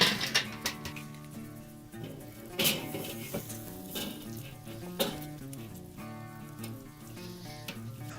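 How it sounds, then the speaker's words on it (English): A spatchcock turkey goes onto a charcoal grill opposite the coals at about 325 degrees, sizzling steadily with scattered clanks and taps of handling and grill grate throughout. "let's go ahead and get this spatchcock turkey onto the grill opposite the coals"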